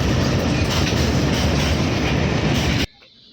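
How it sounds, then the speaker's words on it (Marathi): A train passes close by during a monsoon fishing trip, a loud, steady rumble of wheels and carriages that fills the whole stretch and then cuts off abruptly near the end. "बघा कशी ट्रेन पण आलेली आहे नेमकी टायमिंगला"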